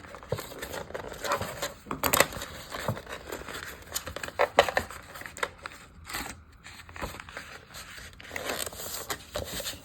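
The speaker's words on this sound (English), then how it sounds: "After you score it, fold it. And fold the other side." Scored paper being folded by hand for a no-sew journal base, with soft crinkling, creasing and brushing sounds in close, irregular bursts and no talk.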